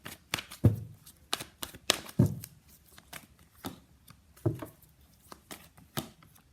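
Tarot cards being shuffled by hand, heard close as irregular papery flicks and slaps with a few sharper taps, without talk.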